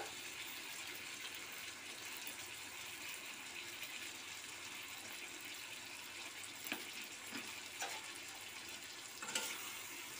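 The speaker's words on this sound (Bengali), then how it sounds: "এবার সুন্দর করে নাড়িয়ে চাড়িয়ে এটাকে কষিয়ে নিতে হবে" Ginger garlic paste frying in a pan, a steady close hiss of sizzling oil with occasional scrapes and taps of a spatula as it is stirred, no voices.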